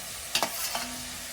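Curry leaves dropped into hot oil, giving a quick burst of crackling sizzle with a couple of sharp pops over a short steady fry, close and fairly quiet.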